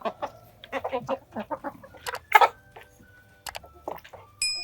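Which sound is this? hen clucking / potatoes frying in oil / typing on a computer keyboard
hen clucking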